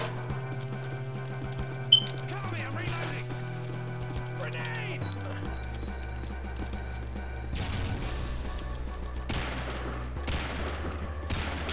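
Gunfire from a weapon in a realistic-guns mod of Doom II, repeated shots cracking out over a droning game soundtrack, sparse at first and then in louder sharp bursts toward the end.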